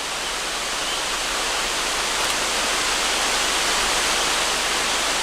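A large waterfall roars in an outdoor landscape, a dense, constant broadband wash of falling water heard up close and alone, with no voices.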